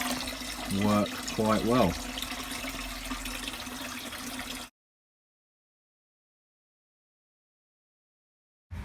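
Water rushes steadily through a homemade twin-coil immersion chiller of 8mm pipe, a loud continuous flow under a voice before cutting off abruptly into silence.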